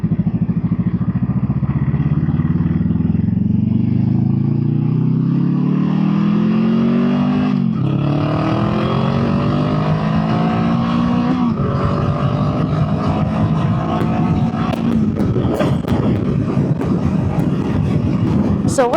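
Honda Rebel 500 motorcycle engine with a cut, capped-off exhaust, loud and close, revving up steadily in rising pitch with several throttle rises and drops, raspy and continuous throughout.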